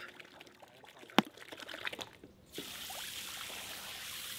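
A few clunks and knocks, then a steady, fairly loud hiss of water spraying into a papermaking vat to break up the pulp, continuing to the end.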